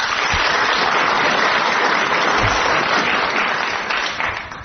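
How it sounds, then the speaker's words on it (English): A studio audience at a radio quiz show applauds the winning contestant, a loud, dense and steady roar of clapping that tails off slightly at the end. "He gets a book token and a round of applause"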